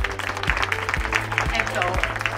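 An audience at a Black History Month art festival claps in sustained, dense applause, steady close hand claps over a low amplified hum with a rhythmic thump underneath.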